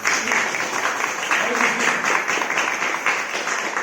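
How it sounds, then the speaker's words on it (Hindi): A church congregation claps together for God during a Hindi sermon, a dense, even patter of many hands with some voices mixed faintly into it. "ताली बजाए परमेश्वर के लिए"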